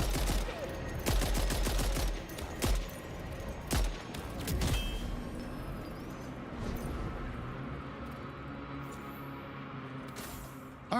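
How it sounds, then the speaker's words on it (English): Turret guns firing in Death Stranding 2: rapid bursts of loud gunfire crackle in quick succession, then several separate sharp shots follow before a lingering rumble of the game environment. "How's it feel getting shot by your own guns?"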